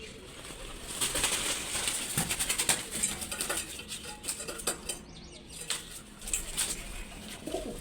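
Pigeon on a home balcony in the early morning, with soft scattered cooing, chirps and flutters plus light clinking rattles, moderately close, no talking.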